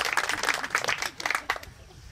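Brief, scattered audience applause at a high school groundbreaking ceremony, a handful of nearby claps that thin out and fade after about a second and a half.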